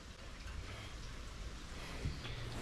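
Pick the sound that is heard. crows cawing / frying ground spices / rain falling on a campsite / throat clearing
rain falling on a campsite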